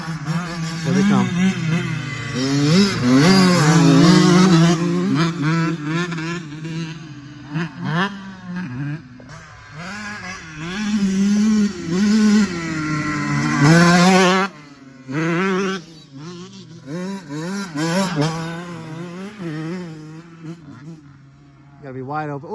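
Two-stroke dirt bikes, a CR 125 and an 85, one with a Pro Circuit exhaust, riding a motocross track with a tabletop jump, loud buzzing engines rising and falling in pitch as they rev and pass, dropping out briefly between runs.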